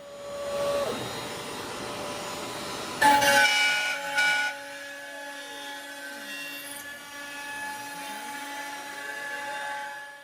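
A CNC router carves a pumpkin-shaped inlay pocket in wood, its steady high whine running through the whole clip with a few louder bursts of cutting near the middle, up close and without talk.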